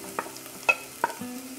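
Green bell pepper hits a frying pan and gets stirred, a few quick soft scrapes and taps over a faint sizzle, close and quiet with no one talking.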